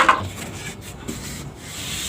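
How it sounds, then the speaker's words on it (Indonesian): Steady scratchy rubbing of 240-grit sandpaper over a wooden birdcage, continuous and close, with no talking. "alasnya kita gerinda dengan amplas 240 ya"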